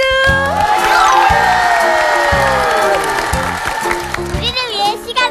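A group of kindergarten-age children on a TV kids' show claps and cheers after a song-guessing game, with rhythmic group clapping under sung and shouted voices, loud and close throughout.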